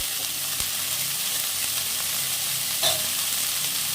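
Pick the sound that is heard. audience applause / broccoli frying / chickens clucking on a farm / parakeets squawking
broccoli frying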